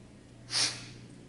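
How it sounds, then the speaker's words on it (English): One short, sharp sniff through the nose, close and quiet, rising and fading within a fraction of a second over a faint steady background hum. "just a sniff"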